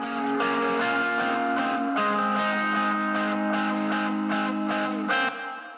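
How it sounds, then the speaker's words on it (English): Lead guitar lines layered over heavily distorted rhythm guitars in a rock mix, with repeated picked notes pulsing rhythmically above a thick, sustained chord bed that drops in pitch midway. "And then we have a bunch of leads that are going on top of that"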